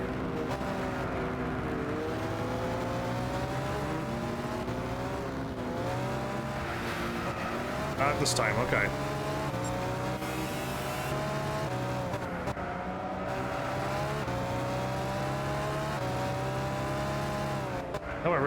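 Race car engine in Gran Turismo 6 career-mode racing, a steady sustained drone with rising and falling pitch as it accelerates and shifts, loud throughout, with brief tire-squeal bursts and a short spoken remark over it.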